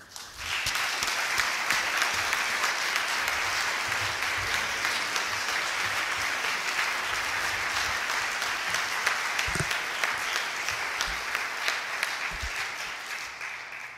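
An audience at an evening legal symposium welcomes a speaker with sustained, dense applause that holds steady for the whole stretch and fades slightly at the end.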